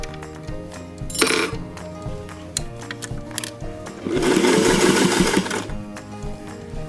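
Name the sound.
sewing machine stitching a dress seam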